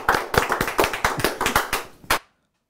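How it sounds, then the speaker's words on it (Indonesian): Close, rhythmic clapping at a stand-up comedy show greets a comedian. The distinct, evenly spaced claps run for about two seconds and then stop abruptly into silence. "Langsung beri tepuk tangan untuk Ridwan Budiman."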